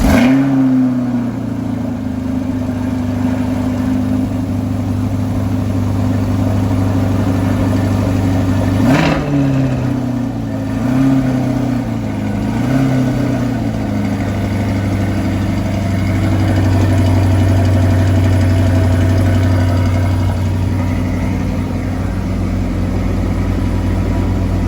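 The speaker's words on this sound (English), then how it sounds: "we'll start up the C8, see how that compares to start up" A 2020 Chevrolet C8 Corvette V8 fires up with a sharp rev flare, then settles into a loud, steady burbling idle with a few blips of the throttle, heard close with no talking.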